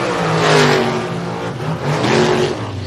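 A drag racing car engine revs loudly and close at a drag strip, rising and falling in two strong surges with a rough, throaty tone.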